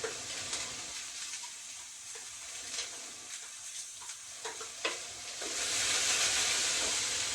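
Coriander and white pepper sizzle softly in a stainless steel pan, with faint stirring scrapes. The sizzle swells into a louder hiss near the end.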